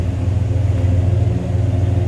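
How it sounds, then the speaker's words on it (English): A 1970 Oldsmobile Cutlass 442 tribute with a 350 engine idles with a deep, steady rumble, loud and close, with a faint pulsing lope and no talk. "Nice little rumble out of that. You'd almost swear it's got the big engine under the hood."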